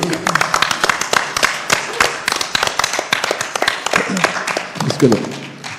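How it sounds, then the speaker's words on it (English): An audience at a live stage event claps in steady, dense applause that carries on throughout, with a few voices and cheers mixed in. "To a huge round of applause, please."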